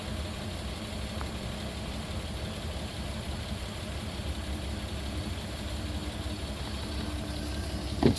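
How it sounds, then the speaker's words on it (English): An engine idles roughly and misses after its fuel mixture screw is adjusted, giving a steady low rumble with uneven pulses and no talking. "So the idling's a little bit rougher now."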